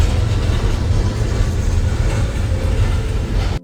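A train rumbles past close by on a railroad in Birmingham, Alabama, a loud continuous roar with rattling wheels that cuts off abruptly at the end.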